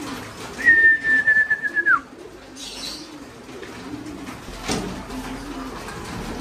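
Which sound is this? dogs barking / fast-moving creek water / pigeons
pigeons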